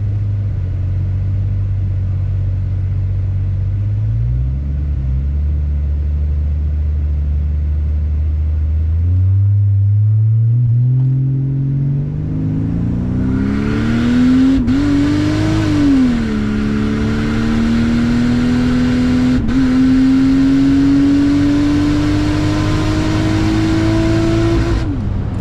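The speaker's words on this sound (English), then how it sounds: "Let's see if we can have a decent launch." A turbocharged, all-wheel-drive Buick Rainier with a 4.2 engine launching on a track, loud and close. The engine idles low, then revs and pulls steadily higher through a long, rising acceleration, with a brief shift dip partway.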